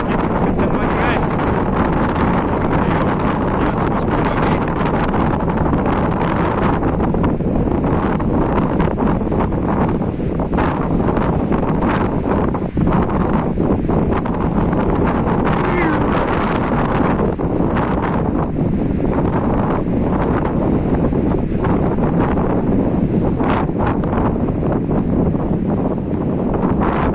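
Strong wind roars at Sipiso-piso waterfall in Tongging, a loud, steady gusting buffet across the microphone that never lets up, with no other sounds rising above it.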